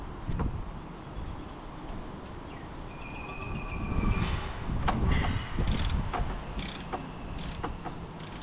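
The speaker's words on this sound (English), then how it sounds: "To release the power steering belt, first I'll loosen the tensioner bolt on the side, then remove the nut from the tensioner pulley" Wrench or ratchet clicks and metallic mechanism noises while loosening the power steering tensioner bolt on a 1981 Datsun 280ZX, irregular close taps and ratcheting over steady background hiss, no talking.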